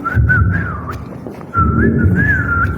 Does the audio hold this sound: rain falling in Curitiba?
no